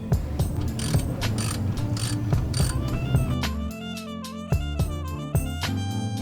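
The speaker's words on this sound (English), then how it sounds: "grab your ratchet and tighten that bad boy up" A ratchet wrench clicks as it turns on the oil drain plug of a 1990-1997 NA Mazda Miata, a fast run of mechanical ticks giving way to a few separate louder clacks, with no one talking.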